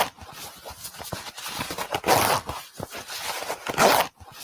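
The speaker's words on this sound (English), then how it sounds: "Oh, it was a zipper." A zipper pulled in quick bursts, close and fairly loud, with a few rasping strokes separated by short pauses and ending abruptly.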